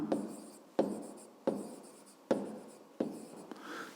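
Pen strokes scratching on paper while working a 5th-grade maths exercise, a series of five quick bursts each starting sharply and fading, close and clear with no talk.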